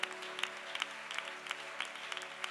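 A church congregation claps in steady, lively applause, dense and sustained with sharp individual hand claps standing out throughout the short stretch.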